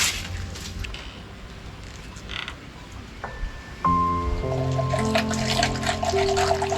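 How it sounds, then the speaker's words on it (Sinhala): Spring water trickles in a steady, soft, close stream; partway through, sustained musical tones rise and continue over it. "ඔය තියෙන්නේ උල්පත් වතුර බොන්නකෝ"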